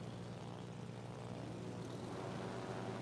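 Steady propeller-plane engine drone from a naval combat video game, with carrier aircraft throbbing continuously at moderate, even volume throughout with no talk over it.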